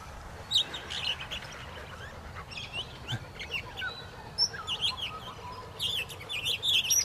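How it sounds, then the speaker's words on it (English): About a dozen budgies chirp in a tree at a showground. The bright, scattered tweets come in irregular bursts over faint outdoor background noise. "But yeah, flock of budgies."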